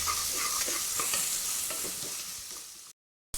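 Sliced onions sauté in a pressure cooker for kuska biryani, a steady close sizzle with scrape-like stirring taps running for about three seconds before cutting abruptly to silence.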